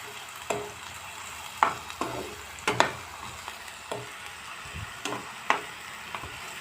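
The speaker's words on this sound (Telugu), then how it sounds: "ఆయిల్ వేడెక్కింది. ఇవన్నీ ఉల్లిపాయ ముక్కలు వేస్తాను. వీటిని బాగా వేయించుకోవాలి." Onion pieces frying in hot oil for a bitter gourd and broad bean curry, a quiet continuous sizzle broken by scattered pops and a few stirring scrapes, close by with no one talking.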